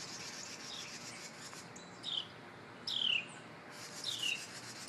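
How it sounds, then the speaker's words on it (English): Baby birds chirping outdoors as their mother coaxes them to fly: three short high calls at spaced intervals over a quiet, hissy background. "Mother is coaxing the baby birds to fly."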